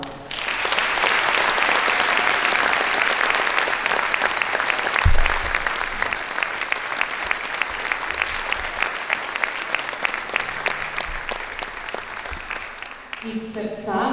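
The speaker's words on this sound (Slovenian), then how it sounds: "Prosim, aplavz." Applause from the audience at an orchestra and choir concert of a music school in Brežice, loud and sustained clapping from many people that thins out near the end, with a low thump midway.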